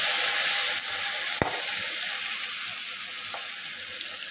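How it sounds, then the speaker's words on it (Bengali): Potatoes frying in hot oil with a steady, loud, close sizzle throughout, broken by one sharp pop near the middle. "আলুগুলো দিয়ে দিলাম। আলুগুলো একটু ফ্রাই হবে"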